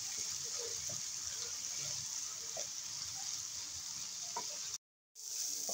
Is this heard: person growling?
no